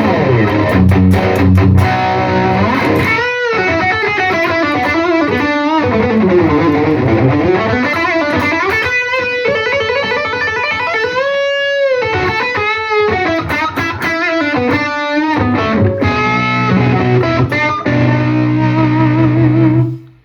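An electric guitar through a Nobels ODR-1 and Blues Driver overdrive plays a string of riffs and bending notes, gritty and sustained, with a spring reverb wash and no talking.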